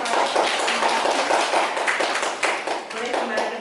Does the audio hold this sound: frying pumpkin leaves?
no